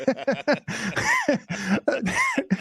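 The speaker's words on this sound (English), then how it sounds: "Afraid of the smoke, coughing around the smoke, uncomfortable in smoke." A person coughs repeatedly in short, harsh bursts with throaty rasps, close and loud.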